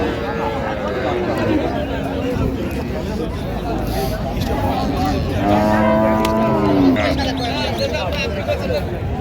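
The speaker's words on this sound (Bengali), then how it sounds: "আর আমরা দেখছিলাম এখানে একটি হাই কোয়ালিটির গাভী বাছুর দেখছেন, রানা ভাই।" Dairy cows and calves at a village cattle market in Dinajpur, Bangladesh, give a drawn-out low moo that rises over constant crowd babble. Someone speaks close by throughout.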